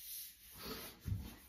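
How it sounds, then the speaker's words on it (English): An axe is sanded by hand, giving a faint, brief rasping rub with a slightly stronger stroke near the end, close and without talk. "Just sanding, maybe sanding her down here."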